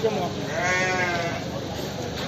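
Sheep and lambs bleat at a livestock market in Kadirli, a close, wavering cry with the crowd's noise around it.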